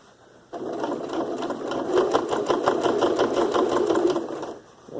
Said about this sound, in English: we are now top stitching and closing up that gap